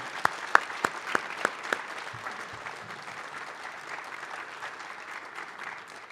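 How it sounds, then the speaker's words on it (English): A graduation ceremony audience applauds, starting with a few sharp, close individual claps that quickly swell into steady, sustained crowd applause with a faint murmur of voices. "join me to recognize them all with applause."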